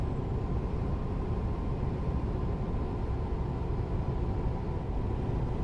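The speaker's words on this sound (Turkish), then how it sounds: "Bu Volvo'nun motor sesi V8." Simulated Volvo V8 bus engine in Euro Truck Simulator 2, driving a Comil Campione HD 6x2 coach: a steady, muffled low engine hum and rumble, moderately quiet and unchanging, with no voices.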